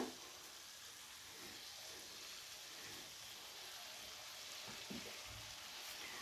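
Curry leaves dropped into hot oil over a spicy chicken garlic gravy, giving a faint, steady sizzle and crackle that hisses evenly throughout with no voices.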